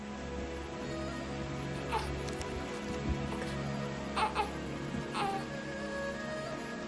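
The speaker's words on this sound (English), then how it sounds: "So they actually made the rain here for this scene." Steady rain falls in a video game scene, a continuous soft hiss with a few faint brief sounds rising over the downpour.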